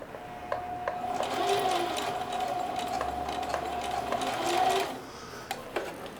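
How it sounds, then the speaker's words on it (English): A sewing machine zigzag-stitches along a line of straight stitching on denim, running steadily and close for about five seconds with a faint whine, then stopping, followed by a few small clicks. "I'm going to continue zigzag stitching right down this line of straight stitch here"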